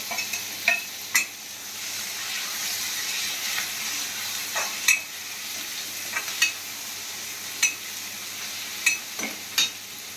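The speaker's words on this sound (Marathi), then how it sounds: "झाला आपला गोल्डन कलर कांदा चांगला भाजला आहे आता आपण टमॅटो टाकूया अद्रक लसूण पण टाकते याच्यातच" Tomato, ginger and garlic fry with golden browned onions for a paneer gravy, giving a steady close sizzle broken by several sharp stirring scrapes and clinks of a spoon against the pan.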